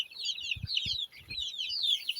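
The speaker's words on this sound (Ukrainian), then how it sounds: "Ось курчатка." Small chicks peep and cheep continuously near a farmyard building under renovation, a steady busy chorus of high chirps broken by soft low thumps and scuffles.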